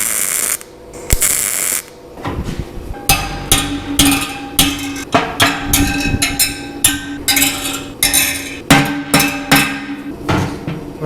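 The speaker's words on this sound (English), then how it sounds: "A bigger hammer helps it bend so much quicker and easier." A big hammer pounds metal into a bend for a homemade fuel tank, loud ringing blows landing in steady repeated strikes, close and unaccompanied by talk.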